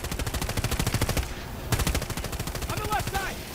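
Rapid automatic bursts ring out as a helicopter strafes in Battlefield 2042. Two long, loud volleys are split by a short pause, with a faint voice near the end.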